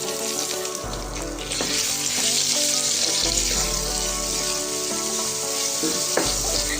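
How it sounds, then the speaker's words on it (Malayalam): Onion, ginger, garlic and green chili sautéing with masala for a Kerala-style rabbit roast, a loud, constant close-up sizzle with stirring scrapes and a low hum underneath, with no talk. "ഈ മസാലയുടെ കൂടെ സവോളയും ഇഞ്ചിയും വെളുത്തുള്ളിയും പച്ചമുളകും കൂടെ നമുക്കൊന്ന് വഴറ്റിയെടുക്കാം."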